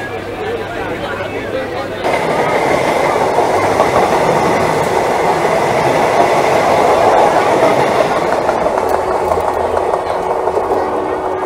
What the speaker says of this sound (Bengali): ক্রস করলো হাওড়া পুরী বন্দে ভারত এক্সপ্রেস